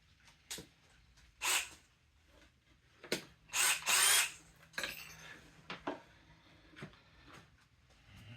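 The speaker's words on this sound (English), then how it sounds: "Use a countersink here." A power drill fitted with a countersink bit boring into wood, several short separate whirring bursts with pauses between, close and loud against a quiet room.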